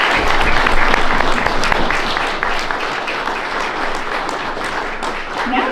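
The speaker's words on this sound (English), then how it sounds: "I just want to give them a round of applause to show our appreciation" Audience at a meeting bursts into sustained applause, dense clapping from many hands filling the room at a steady loud level that eases slightly but continues throughout without a break.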